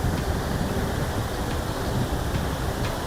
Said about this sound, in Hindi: ये जा रहा है पानी नीचे